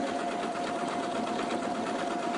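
An elna eXcellence 760 sewing machine stitches a Grecian key decorative pattern on stabilized fabric, a steady, fairly quiet mechanical whirr with a faint rapid needle rhythm running continuously and alone.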